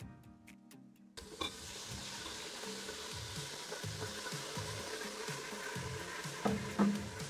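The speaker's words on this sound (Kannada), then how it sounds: "ಇದೆಲ್ಲ ಚೆನ್ನಾಗಿ ಫ್ರೈ ಆಗ್ಬೇಕಿದು ಮಸಾಲೆ ಎಲ್ಲ." Masala spices frying in oil in a pan while cooking Ambur dum biryani, a steady close sizzle running throughout after a brief quiet start, with a few clinks of a stirring spoon.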